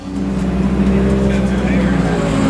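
Race cars run at Pacific Raceways during a 24 Hours of Lemons endurance race, a steady loud engine drone with low rumbling tones that holds without a break.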